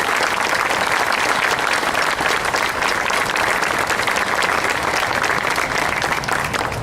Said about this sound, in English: let's please give all our members of the military and armed services a round of applause.